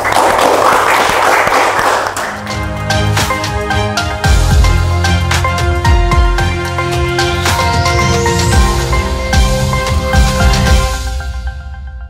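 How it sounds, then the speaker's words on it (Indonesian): Studio audience applause for two guests on a television talk show, a burst of clapping at the start that gives way to a loud musical jingle with heavy bass beats and sweeping tones. "Aplaus untuk kedua narasumber."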